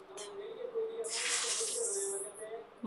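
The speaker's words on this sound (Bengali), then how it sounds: "ভালোভাবে মশলাটা কষিয়ে নিচ্ছি।" Ginger, garlic, onion, salt and turmeric frying together in a pan, giving a steady close hiss that swells into a loud sizzle midway, with a voice murmuring underneath.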